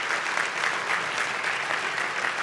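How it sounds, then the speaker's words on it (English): Steady applause from an audience at a Boys and Girls Clubs gala honoring a Boston Celtics guard, a dense, even wash of clapping that holds at full strength throughout with no voices over it. "Please give him a round of applause."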